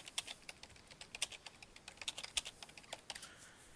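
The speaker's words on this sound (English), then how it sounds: "you can actually just type into the box right here" Quiet, close keystrokes on a computer keyboard tap out in a quick, irregular run of light clicks while data is entered into a desktop application, with no talking.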